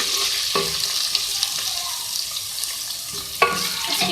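Ginger garlic paste fries in a pan with a continuous close sizzle, broken by a couple of sharper stirring knocks from a spoon, with no talking.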